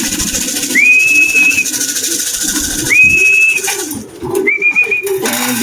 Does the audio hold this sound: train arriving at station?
no